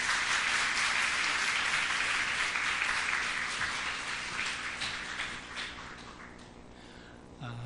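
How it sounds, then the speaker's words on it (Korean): A church congregation claps to welcome the pastor at a revival meeting, dense sustained applause that gradually thins and fades toward the end. "나오실 때 존경과 감사의 마음을 담아 박수로 맞이하겠습니다."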